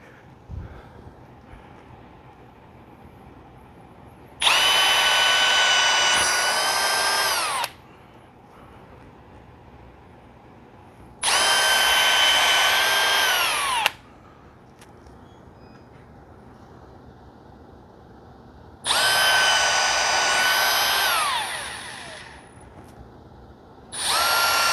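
Power drill enlarging holes in a homemade cordless vacuum stand, three loud bursts of several seconds each separated by quiet pauses, with steady whining pitch that dips as each run winds down.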